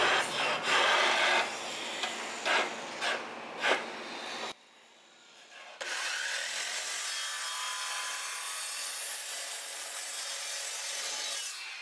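A saw cuts a wooden stair tread, first with rhythmic rasping strokes, then a short pause, then a steady, sustained cutting hiss that runs to the end.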